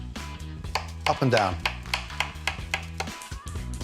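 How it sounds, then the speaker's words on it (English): Steady knife chopping as mushrooms are sliced on a board, quick regular strokes close up, with someone talking over it and music underneath. "While the water comes to the boil, start the sauce by slicing mushrooms."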